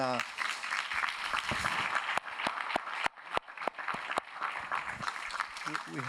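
An audience at a panel discussion on peace and development funding applauds the panelists with steady, moderate clapping. Some sharp louder claps stand out, and a voice speaks briefly at the start and again at the end.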